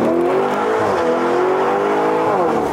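A Mercedes Brabus engine rumbles coarse and loud at close range, holding a steady deep drone with a slight pitch dip and rise as the revs shift, with no voices.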